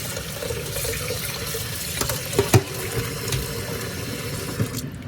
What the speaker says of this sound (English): I'm gonna give it a little bit of a rinse with cold water.